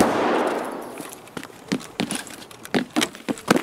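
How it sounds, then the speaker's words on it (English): Grenade tossed into a room in a shooter video game: a broad rushing burst fades out, followed by a series of sharp cracking gunfire-like hits at uneven intervals. "Gonna throw a nade into one of the rooms."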